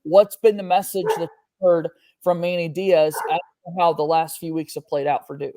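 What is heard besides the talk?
dog barking in the background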